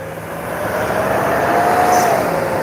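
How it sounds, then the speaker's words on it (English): A heavy vehicle rumbles past nearby, its roar swelling and holding loud for a couple of seconds. "loud truck flying by."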